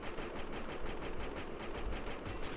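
Rapid automatic gunfire from Free Fire, a steady unbroken stream of closely spaced shots that stays loud and dense from start to finish.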